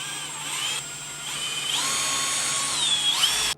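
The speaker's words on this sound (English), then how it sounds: "So now I'm going to take my Forstner bit." A power drill fitted with a 3/8 Forstner bit bores into wood, producing a steady whirring motor whine that rises and falls in pitch as the bit bites and spins freely, close and continuous before cutting off.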